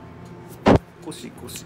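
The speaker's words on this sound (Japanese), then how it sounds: "今のは、ブレーカーが落ちた時の音です" A circuit breaker trips in a home kitchen during cooking, giving one loud, sharp clunk near the mic, with quiet talk and faint rubbing sounds around it.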